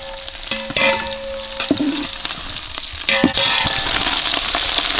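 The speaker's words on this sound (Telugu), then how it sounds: "ఈ మంచిగా జర మాడిపోకుండా మంచిగా కలుపుకొని దూరగా వేపాలి" Spices fry in a pan with coriander and mint while being stirred, a loud, close sizzle broken by scraping strokes and clinks that swells into a stronger hiss near the end.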